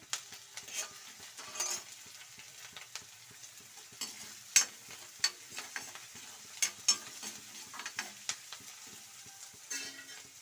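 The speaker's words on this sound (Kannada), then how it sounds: "ಫ್ರೈ ಆಗಿದೆ ಬೆಳ್ಳುಳ್ಳಿ ಶುಂಠಿ ಪೇಸ್ಟ್ ಹಾಕೊಳ್ಳಿ" Garlic ginger paste sizzles steadily in a pan for an egg curry, with repeated scraping stirs and sharp utensil taps against the pan, close and clear, with no talking.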